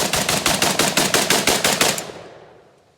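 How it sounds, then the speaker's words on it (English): Rapid burst of about eleven shots from a Hellpup AK pistol fired single-handed, evenly spaced and loud, ending in a fading echo with no voices. "We're gonna go shoot it."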